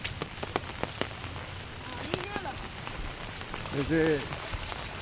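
Heavy monsoon rain pours down steadily during a flood, a dense hiss of drops on surfaces with scattered louder splashes, while a voice speaks briefly over it.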